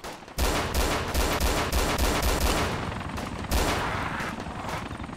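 Gunfire in the DayZ Overpoch mod, a rapid string of sharp, loud shots in bursts, close and punchy, continuing almost without pause across the whole stretch with a brief quiet gap near the start.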